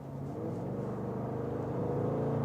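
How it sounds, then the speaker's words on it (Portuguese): A deep 550 hp V8 exhaust on a Jaguar F-Pace SVR sports SUV in quiet mode burbles at a low, steady idle, a muted rumble that stays fairly even. "a gente já vê que o escapamento no modo silencioso já faz bastante barulho"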